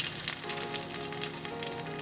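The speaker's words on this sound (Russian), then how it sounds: "На разогретом растительном масле обжариваем наши чипсики" Rice paper chips fry in hot vegetable oil with a dense, bright, continuous sizzle and crackle, close and steady from start to finish.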